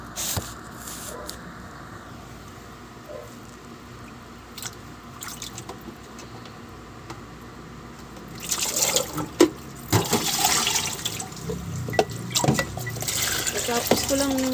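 Running tap water and splashing while dishes are washed at a home sink, with soft drips at first and then louder, uneven gushes and clinks in the second half.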